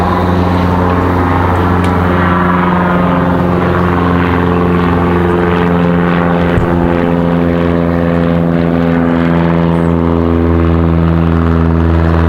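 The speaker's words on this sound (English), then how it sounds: "We've got Republic Airways 4596 coming in from Nashville, Tennessee. That E175 LR." A Republic Airways Embraer E175 LR jet arriving at Raleigh-Durham airport, its engines a loud, steady, continuous drone with a constant tonal hum held throughout, no talk.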